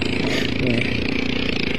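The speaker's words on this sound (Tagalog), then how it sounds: "Pero ang tibay-tibay ng motorsiklo ni kuya." A motorcycle engine labors along a rough, bad road, a loud, steady mid-pitched drone with slight revving as people talk over it.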